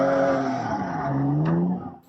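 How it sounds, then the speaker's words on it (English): Car tires screeching at an illegal street takeover, a loud sustained squeal with engine roar as the driver spins the car in circles, sliding pitch and constant intensity before trailing off near the end. "The screeching sound of tires going round and round."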